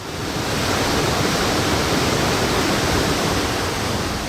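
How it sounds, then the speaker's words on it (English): The Khirdeng Kahat waterfall near the village of Padu plunges into a deep pool, making a steady, loud, unbroken roar of rushing water that fills the whole stretch without pause. "The waterfall Khirdeng Kahat drops into a deep pool"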